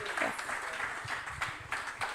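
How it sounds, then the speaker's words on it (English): Audience applause at a youth business summit, a short burst of clapping from a crowded hall, moderately faint and somewhat distant. "A huge round of applause, please."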